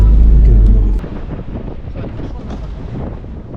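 Loud, steady wind roar from a moving truck's slipstream, a heavy low rumble buffeting the microphone without a break.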